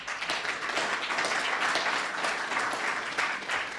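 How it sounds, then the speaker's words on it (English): An audience applauds attorney Thomas at a talk, dense continuous clapping at full strength throughout, with no voices over it. "Round of applause for Thomas."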